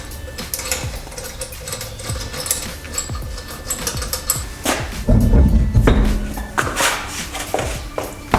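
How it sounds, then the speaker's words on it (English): Ratcheting and clattering from tools working a wheel off a Dodge Viper ACR in a garage, with continuous rapid clicks, knocks and metallic rattles building to a louder burst near the end. "let's pop this wheel off"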